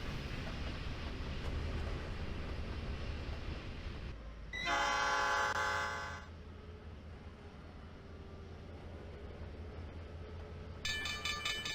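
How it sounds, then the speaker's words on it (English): An SD40-2 diesel locomotive in the Trainz TRS2019 simulator rumbles steadily along at about 27 mph, then sounds a loud, sustained horn blast approaching a grade crossing, followed by another horn note starting near the end. "the train approaches the only crossing on the module and uses the horn for the appropriate warnings"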